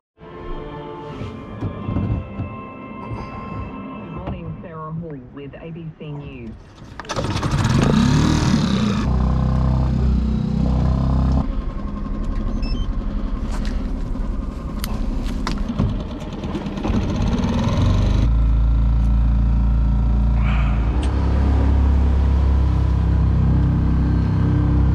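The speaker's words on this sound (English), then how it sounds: "I don't know if I could tolerate that engine much more" Small outboard engine driving a Welsford SCAMP sailing dinghy, loud and close, starting with clattering and knocking, then settling into a steady droning hum that holds for most of the stretch with slight rises in pitch.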